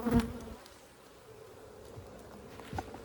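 Honey bees hum at a strong, swarming hive in a low, steady drone, with a few louder buzzes as single bees pass close.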